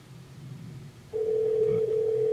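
A steady ringback tone from a phone call routed through a Dension adapter in an Audi A4 starts abruptly after a low rumble and holds at an even pitch, fairly quiet.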